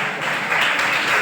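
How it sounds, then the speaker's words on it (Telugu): A church congregation claps together in praise during a Christmas service, a brief, dense burst of applause with no talking over it. "చప్పట్లు కొట్టి ఒకసారి దేవునికి స్తుతులు చెల్లిద్దాం."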